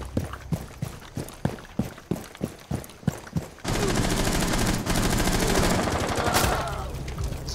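Gunfire in Rainbow Six Siege: about ten evenly spaced single shots ring out, then a dense sustained burst of automatic fire fills the rest of the clip, loud and close.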